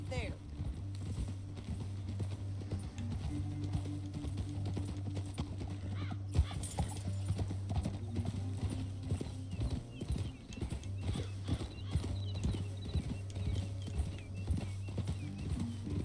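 Steady hoofbeats clip-clop throughout as horses move along in Red Dead Redemption 2, with a horse whinnying, over a continuous low rumble and music-like drone, with voices talking at times.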